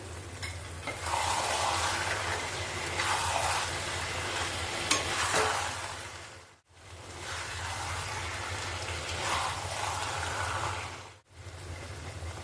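Potatoes tipped into a pan of sizzling jackfruit curry, giving a steady close frying hiss with soft stirring scrapes that break off twice, no voices.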